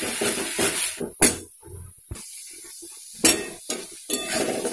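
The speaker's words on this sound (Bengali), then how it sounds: "আমি খুব ভালোভাবে কষিয়ে নিচ্ছি।" Poppy seed paste is stir-fried in a pan, with bursts of spatula scraping and soft sizzling separated by near-silent pauses, a couple of sharp clinks standing out, close by.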